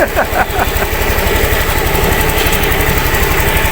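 A Yamaha Aerox scooter engine, just repaired after stalling with an error 12 fault, runs loud and close with a fast, even, pulsing idle, and a few voices are heard faintly at the start.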